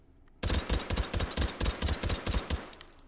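A Beretta M93R machine pistol fitted with a stock and suppressor, fired in the H3VR game, lets off a rapid string of about a dozen muffled, evenly spaced shots, loud and close with no talking.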